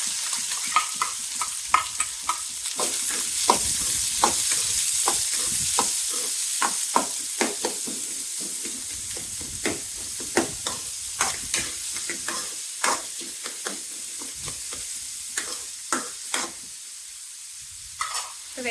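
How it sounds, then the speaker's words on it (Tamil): Three large onions sauté in a pan with garlic for a Madurai potato snack, a steady sizzle and hiss broken by frequent scraping stirs of a spoon against the pan, close and fairly loud. "பெரிய வெங்காயம் 3 வெங்காயம் சேர்த்துக்கலாம்."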